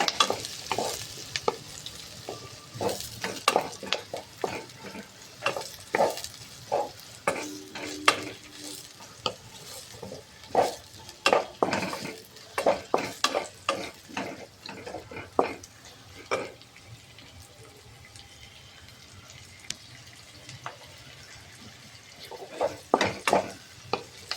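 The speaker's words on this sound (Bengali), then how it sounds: "তার সঙ্গে দিয়ে দিলাম কুচানো পেঁয়াজ। এটাকে একটু ভেজে নেব।" Chopped onion sizzles in a pan while a utensil repeatedly scrapes and stirs, producing irregular clanks against the metal over a steady frying hiss.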